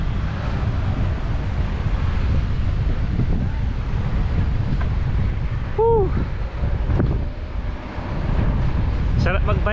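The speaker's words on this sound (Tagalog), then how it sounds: "Medyo may sumasalubong na hangin, pero okay lang." Steady headwind rumbles and buffets against the microphone while cycling, a low roar that rises and falls.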